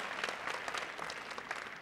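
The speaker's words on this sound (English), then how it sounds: "Give a round of applause, please" Applause for two school advisors at a high school National Honor Society induction ceremony, a steady dense patter of many hands in an indoor hall with no voices over it.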